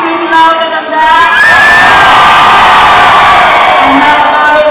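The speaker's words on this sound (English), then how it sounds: "Can you scream louder than that?" A large concert crowd screaming and cheering at a live music show, a loud sustained roar of shrieks and whoops from many voices, close and continuous throughout.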